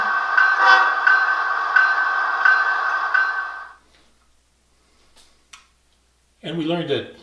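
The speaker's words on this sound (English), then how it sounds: "The horn." A DCC model locomotive horn sounds loudly and steadily for about three and a half seconds, then stops. A short pause with faint clicks follows before a voice starts talking.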